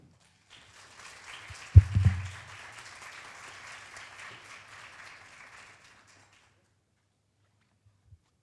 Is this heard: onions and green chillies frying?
no